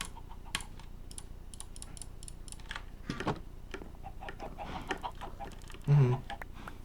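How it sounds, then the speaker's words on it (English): Chickens cluck faintly in the Minecraft modpack Skyfactory 4, with a short louder cluck near the end and steady computer-keyboard typing throughout. "I'm making incest chickens right now"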